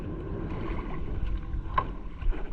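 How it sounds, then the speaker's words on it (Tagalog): A small rowboat is paddled across choppy water, with soft watery strokes and splashes close by over a low wind-blown rumble. "Ako yung sasagwan."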